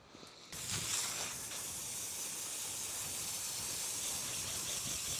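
Steady, loud hiss of a water spray rinsing hot tub filters, starting abruptly after a brief quieter moment and running continuously at close range with no talk.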